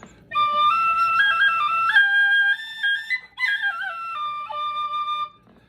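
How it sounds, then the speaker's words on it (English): A low whistle from Ireland plays a slow melody of sustained, breathy, pure tones with smooth slides between notes, heard alone and close, with a short break midway. "That low whistle. That's a very, very nice sounding whistle"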